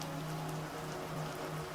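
Steady rain falls at night with drops tapping gently against a window, a dense, even wash of patter holding at one level throughout with no voices.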